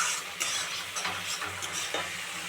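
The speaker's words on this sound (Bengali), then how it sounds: "মশলা কষা হয়ে দেখো তেল তেল মতো বেরিয়ে যাচ্ছে" Spice paste (masala) sizzling in hot oil in a pan for chicken curry, a steady bright frying hiss with scraping stirs and occasional soft clinks of the spoon against the pan, close and continuous with no talk.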